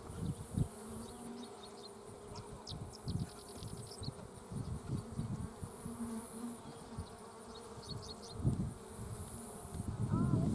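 Honeybees buzzing steadily around their hive, a dense droning swarm close by with short louder passes, under faint background noise and no talk.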